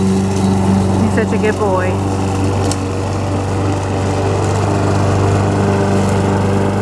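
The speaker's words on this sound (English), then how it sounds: "he came over to mow the yard" A lawn mower engine drones steadily nearby while mowing a yard, loud and continuous as someone speaks briefly over it.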